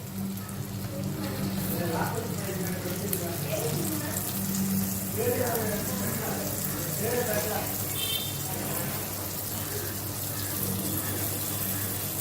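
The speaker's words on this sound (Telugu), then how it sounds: "ఇప్పుడు గ్రైండ్ చేసుకున్న మసాలా వేసేద్దాం అండి" Ground masala sizzles in a hot pan for a home-cooked lunch, a soft continuous hiss and crackle heard fairly close at low volume, with a faint background hum and a few brief clinks.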